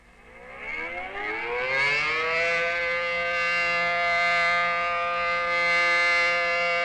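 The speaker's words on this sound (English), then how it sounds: "This community has a good outdoor warning system with sirens covering the entire area." A civil defense outdoor warning siren from a 1960s community alert system winds up from a low growl to a loud, steady wailing tone and holds it, with no other sounds.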